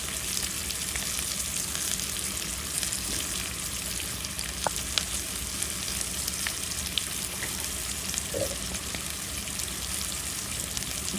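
Onion and tomato frying in a pan, a steady close crackling sizzle running throughout with scattered small pops and spits, no talking.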